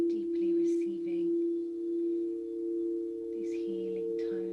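Healing sound tones from an energy-healing session, a steady pure hum that holds throughout with soft swelling pulses, with airy chime-like tones drifting in at the start and end.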